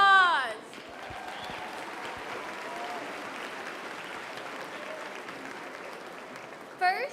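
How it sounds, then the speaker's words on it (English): An audience at a county youth fair hog showmanship contest applauds the exhibitors, a steady, full round of clapping from many hands that runs several seconds, bracketed by a voice over a loudspeaker at the start and end. "Let's give them a round of applause."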